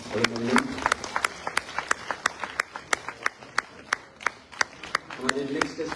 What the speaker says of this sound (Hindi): जोरदार तालियों से डॉक्टर रवि सिंह का अभिनंदन